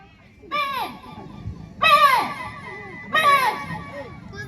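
Three short, bleating cries from a voice imitating a young goat kid, each spaced about a second apart against a murmuring background.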